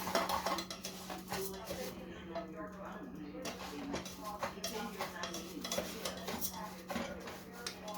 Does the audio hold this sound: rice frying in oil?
yes